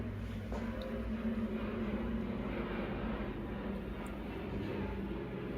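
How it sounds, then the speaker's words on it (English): An airplane passes overhead, heard from underground inside an old fort: a low, muffled, continuous rumble holding steady and faint throughout. "you can hear this airplane flying over"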